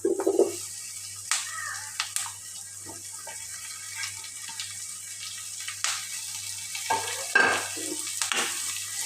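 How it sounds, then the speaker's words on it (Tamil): Papaya kootu fries quietly in a pan with a soft sizzle, broken by occasional scraping and clinking as a spoon stirs the pieces, heard close and fairly faint. "நல்லா கிளறி விட்டுக்கோங்க"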